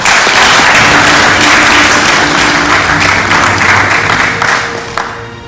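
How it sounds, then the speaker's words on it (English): A loud, dense round of applause from an audience greets the governor during a courtesy visit to the Chief of Naval Staff in Abuja, sustained for several seconds before tapering off. "I want us to give the governor a round of applause."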